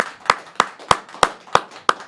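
A studio audience at a New Year's Eve episode of a local talk show claps in six evenly spaced, sharp bursts, close and distinct, like a slow rhythmic group clap.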